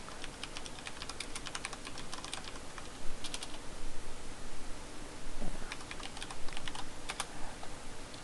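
Someone types on a new mechanical keyboard: a steady run of crisp, close key clicks, some in quick bursts, over a constant hiss of room noise with no talking.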